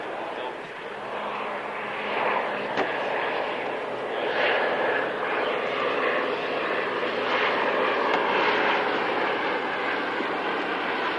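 A restored aircraft flying a display at the Fairford airshow, with a steady broad engine roar that swells and holds for the whole stretch, distant but loud, under occasional commentary.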